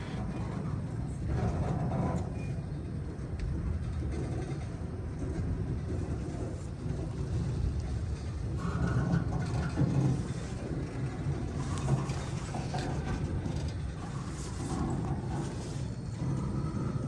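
A freight work extra train slowly groans into motion as its wheels begin to spin, a steady low rumble of heavy rail equipment holding through the whole stretch with no speech.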